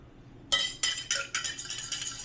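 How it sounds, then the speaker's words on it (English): A spoon stirring an Old Fashioned cocktail in a glass, giving a quick run of bright clinks against the glass, four or five distinct taps followed by continued faint rattling, close and alone. "you're going to take the spoon, you're going to mix it up"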